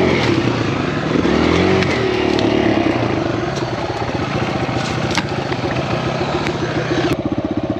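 A Kawasaki KLX 140RF four-stroke dirt bike engine drones loudly and continuously while riding off-road, its pitch rising and falling with throttle changes and a rattly clatter running underneath.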